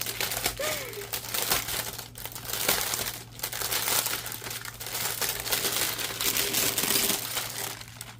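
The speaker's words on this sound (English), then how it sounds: "I will try my darndest to kind of quiet the crinkles as much as I possibly can" Plastic packaging crinkling and crumpling up close as a DAC is unboxed, a dense, continuous rustle with brief louder crackles throughout, no talking over it.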